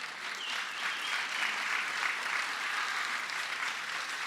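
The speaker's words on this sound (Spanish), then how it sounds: "¿No le puedes dar una ofrenda de aplausos al Señor?" Church congregation applauding together, a dense wash of clapping held at an even, moderate level for a few seconds.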